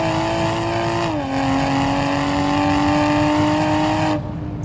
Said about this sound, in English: You hear the turbo spool up